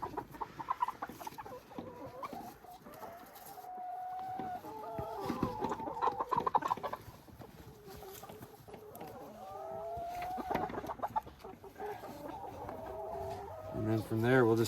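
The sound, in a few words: chickens clucking while being grabbed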